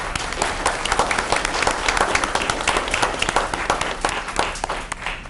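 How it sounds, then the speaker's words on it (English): At a candidates' meeting, a small group claps steadily for several seconds, a lively round of applause that fades slightly at the end. "I'd like you both to give each other applause"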